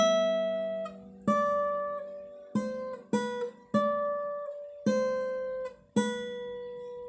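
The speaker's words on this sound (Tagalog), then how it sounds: "Ganito yung tunog kasi ng first string dyan." Single picked guitar notes on the first string ring out one after another in a slow, alternating melody, each attack sharp and then sustaining, close and clear with no voice.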